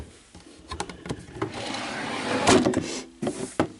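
A wooden drawer in a craft storage unit slides and shuts, with rattling scrapes and a couple of sharp knocks at close range, no voices present.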